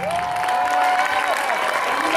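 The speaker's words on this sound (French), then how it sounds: "Nous allons applaudir et accueillir Philippe Lachaud et Tarek Boudali." Audience applause with crowd noise welcoming guests on stage at a live show in Tarbes, a steady dense clapping wash lasting throughout.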